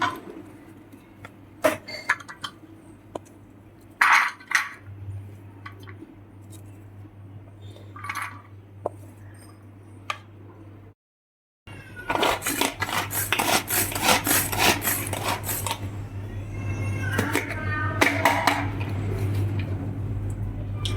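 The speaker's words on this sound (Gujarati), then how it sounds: "આ બધાને આપણે આ કટરની અંદર અટકસરા ક્રશ કરીશું" Carrot, capsicum, onion and green chilli are crushed in a vegetable cutter: quiet handling clicks over a low hum, a brief silence, then a long stretch of loud rapid rattling and grinding as the blades chop.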